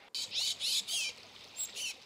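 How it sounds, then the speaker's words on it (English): Tufted titmouse fledgling giving a series of high, squeaky begging calls, about six raspy bursts in quick succession, close and clear over a quiet outdoor background. "The young bird comes from the squeaky hinge school of parent rearing."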